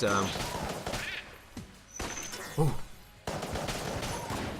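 Rapid bursts of gunfire from the pixel-art shooter Enter the Gungeon rattle in quick clusters with brief gaps, moderately loud, mixed with game effects while a person talks over them.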